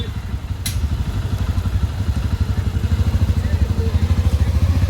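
A motorcycle engine running close by: a steady low rapid putter with a regular pulsing beat that holds even throughout, with a brief sharp click near the start.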